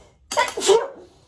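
A single sharp human sneeze indoors during a drawing lesson, close and fairly loud, a quick intake followed by the burst, then a short fading breath.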